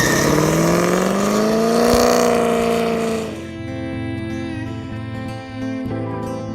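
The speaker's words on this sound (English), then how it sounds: "Give me a little burnout." A car engine revs hard with rising pitch during a burnout, loud and close, then drops to a lower steady rumble with tonal background sound.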